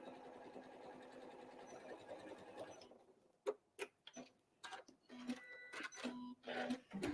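A sewing machine back stitches at the end of a seam on an old-fashioned apron, humming quietly at a steady speed for about three seconds, then stopping and giving way to scattered sharp clicks and taps.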